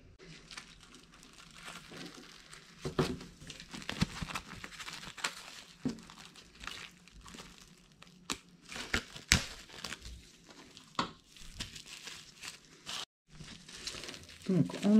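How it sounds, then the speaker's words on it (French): Plastic cling film crinkles and crackles as it is wrapped tightly around a breaded sandwich-bread roll filled with charcuterie and cheese, giving close, irregular rustling bursts with brief tearing sounds over about fifteen seconds. "nous allons venir mettre autour du papier cellophane, du papier film, en serrant également."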